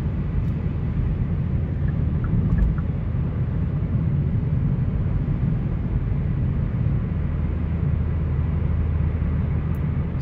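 A Hyundai Elantra GT Sport fitted with an aFe axle-back exhaust cruises at 65 mph, giving a steady low interior drone and road rumble with only a mild, civil exhaust note and no talking.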